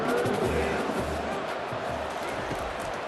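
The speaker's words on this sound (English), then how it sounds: "the crowd now really getting into it" A packed stadium crowd roars steadily in College Football 25 during the MAC Championship between Miami (OH) and Northern Illinois, a dense, constant wash of cheering with faint low thumps beneath.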